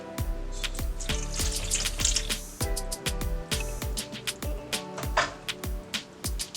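Oil and milk pour into a large mixing bowl for banana oat bread, a close, steady liquid splashing and glugging stream with small drips and knocks, fairly faint and continuous.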